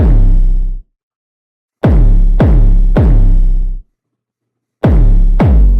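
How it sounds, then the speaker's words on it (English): Deep 808 bass hits in a music beat, booming notes with gliding low tones arriving in short clusters separated by gaps of complete silence. "And here's the second 808,"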